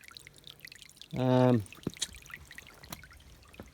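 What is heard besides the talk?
water flowing in a dammed creek for a sluice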